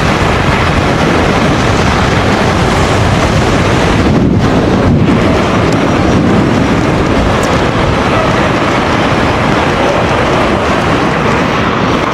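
Loud, constant wind roars across the microphone while riding a Dualtron Victor Limited electric scooter fast, a dense rushing noise with only a brief dip.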